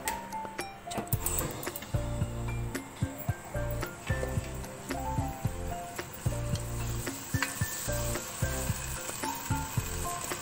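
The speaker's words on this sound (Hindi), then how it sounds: "अब इसका जब तक कलर तब्दील नहीं हो जाता चिकन का, मैं भूनती रहूँगी" Chicken pieces frying in a pan, a close, steady sizzle broken by repeated rhythmic stirring knocks and scrapes against the pan, continuing for about ten seconds without speech.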